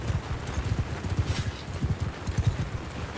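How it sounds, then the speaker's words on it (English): Cavalry horses gallop in the Mount & Blade II: Bannerlord video game, a dense, fairly quiet drumming of hooves on ground with a brief whinny mixed in. "Got a couple cavalry coming in, so I'll take the spear out to be prepared."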